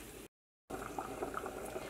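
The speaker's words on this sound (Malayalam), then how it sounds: "ഇനി മൂടി വെച്ചിട്ട് കറി നമുക്ക് നന്നായിട്ടൊന്ന് തിളപ്പിക്കാം" Potato curry simmering in a covered pot, a soft steady bubbling with faint gurgles, briefly cut to silence near the start before resuming.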